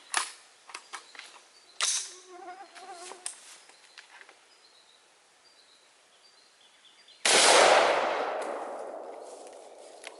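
A 5.56 NATO green tip rifle round strikes a level 4 ceramic armor plate: a single loud, sharp shot bursts out near the end and rings off in a long decaying wash, preceded by scattered faint clicks and handling noises.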